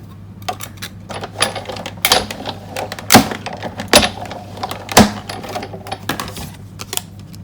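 A Big Shot die-cutting machine cranks a Whisper White card piece through with a large stitched-shape die, giving close, irregular mechanical clicks and a few heavier clunks.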